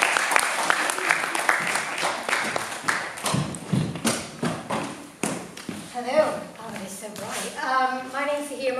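Audience applause for a presenter at a media event, scattered claps and thumps at first that thin out as a voice begins speaking over the final seconds.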